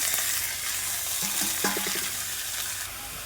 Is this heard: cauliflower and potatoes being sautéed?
yes